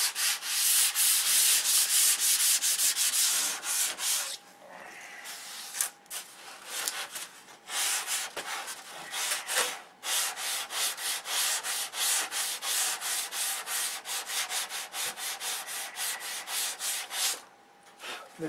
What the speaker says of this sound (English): So this is 320, we're just lightly sanding it, knocking the fuzz off